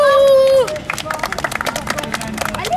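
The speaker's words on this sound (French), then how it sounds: "Allez, on applaudit, on remercie les gars." Children applaud after an under-11 youth football match, a scattered patter of small hands clapping at close range after a brief tonal sound at the start, with voices and crowd chatter mixed in.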